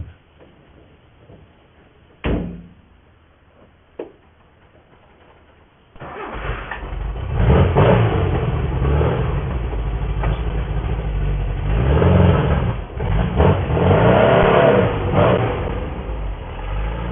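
An MG car engine cranks with a couple of short bursts, then catches and settles into a loud, steady running roar with rising and falling revs, up close.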